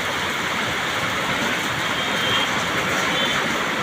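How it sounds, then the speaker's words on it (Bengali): Heavy rain pours down at a metro rail station in Diabari, a dense, constant hiss of falling water that stays loud and even throughout, with no one speaking. "দেখতে পাচ্ছেন দর্শক, প্রচুর পরিমাণে বৃষ্টি শুরু হয়ে গেছে।"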